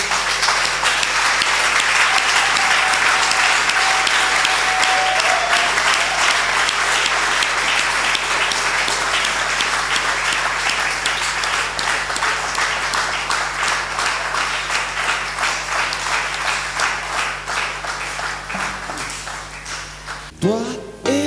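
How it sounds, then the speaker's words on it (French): A church congregation applauds at length in a French-language worship service, a loud, dense wash of clapping that holds steady for about twenty seconds, with a faint tone early on, before fading and stopping near the end. "Est-ce qu'on peut applaudir pour le Seigneur?"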